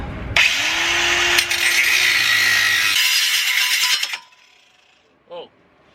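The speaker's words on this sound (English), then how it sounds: "Luke's got a grinder." An angle grinder runs loud and close during welding work on a v35 differential, a harsh hissing grind for about four seconds that cuts off, followed by a faint metallic tap.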